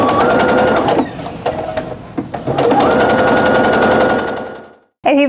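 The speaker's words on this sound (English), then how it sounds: "you're going to stitch down the other side of the line" Sewing machine stitching quilt block seams for quarter-square triangles, a loud close rapid mechanical hum with a brief slowdown, then resuming steadily before stopping and restarting at the end.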